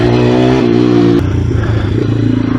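A pit bike engine on an indoor kart track drones loud and steady close by, its pitch climbing in a strained rev before dropping into a rougher, lower run with some clatter.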